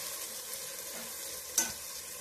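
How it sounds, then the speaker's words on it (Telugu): Mixed vegetables frying in a pan for vegetable pulao give a soft, steady sizzle, with one brief clink of a spoon near the end, fairly quiet and without talk. "అన్నీ వేగుతా ఉన్నాయి"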